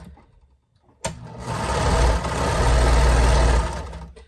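A sewing machine stitches a 1/4 inch seam along the edge of a lounge gown, starting abruptly after a quiet second and running as a steady, close, loud mechanical whir to the end.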